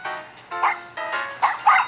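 A small cartoonish dog in Nintendogs + Cats gives about four short yips and barks, close and clear, each one brief with small gaps between them.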